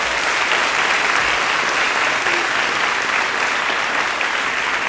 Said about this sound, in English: Please, a warm round of applause for the Black Nativity musicians.